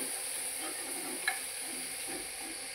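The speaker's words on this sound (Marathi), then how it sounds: "पुन्हा ढवळते।" Masala stirred into brinjal curry in a pan: a soft steady sizzle with faint scraping and one small clink of a spoon, fairly quiet and close.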